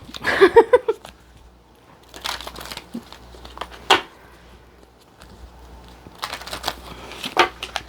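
Bursts of crisp card riffling and shuffling come in a few quick rounds with quiet gaps between them, close by and with no talking.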